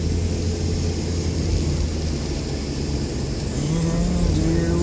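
A car drives up a winding road in the Smoky Mountains, giving a steady, continuous engine drone and road rumble throughout, fairly loud and unchanging, with no voices.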